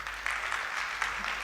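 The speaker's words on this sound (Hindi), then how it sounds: "रीवा से खूब ताली मिल रही है विंध्य प्रदेश के नाम से" Audience applause at the Vindhya Gaurav Samman 2025 event, with the crowd from Rewa clapping for a Vindhya Pradesh mention; a steady, dense wash of many hands clapping continuously with no one speaking over it.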